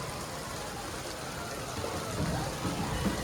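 Steady downpour of heavy rain in Surat, a dense hiss of drops pattering on surfaces, constant and close, with faint talk briefly underneath.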